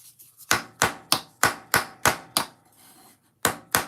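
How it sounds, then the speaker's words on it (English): A hammer taps on wooden Ugears Hurdy Gurdy model parts in about ten close, sharp knocks at a steady rhythm, with a short pause before the last two. "I feel like I'm risking things using the hammer."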